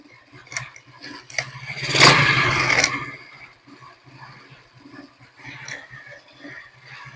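An XRM 110 motorcycle engine fitted with a Yuri 110 carburetor idles with a steady low putter, rising briefly into a louder rev before settling back to idle, close by.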